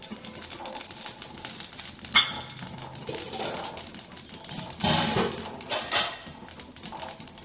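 Mustard seeds and fenugreek crackling in hot oil while tempering, a steady close sizzle with rapid small pops and sputters that swell in bursts near the middle and later, without talk.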